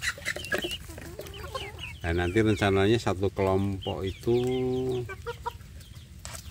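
Free-range village chickens, including large black and white roosters and hens in an open run, cluck repeatedly in bursts over someone talking throughout.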